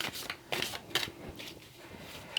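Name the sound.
shuffling Druidcraft tarot cards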